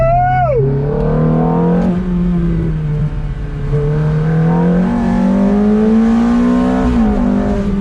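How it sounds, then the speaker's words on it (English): A Ferrari F430's naturally aspirated V8 accelerates hard in first gear. The loud, close engine note climbs steadily in pitch through smooth revving sweeps. "That naturally aspirated V8 just pulls like a beast, man."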